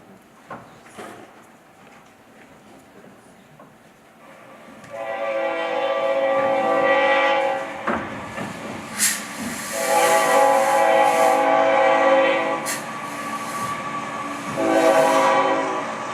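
A train sounds several loud horn blasts, close and sustained, over rolling rail clatter after a quiet start with faint voices.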